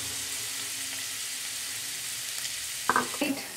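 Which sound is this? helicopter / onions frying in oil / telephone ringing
onions frying in oil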